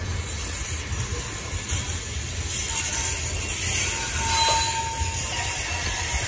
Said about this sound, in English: This is a long coal train.